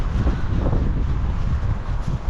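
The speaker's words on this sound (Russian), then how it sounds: "Настолько сильный ветер." Strong wind blows hard and steady, roaring and buffeting the microphone with loud low gusts throughout.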